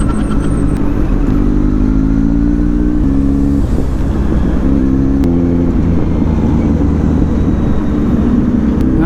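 Motorcycle engine running steadily on a road trip from Cavite to Batangas, a close, loud drone that rises and falls as the rider shifts through gears, with no talking.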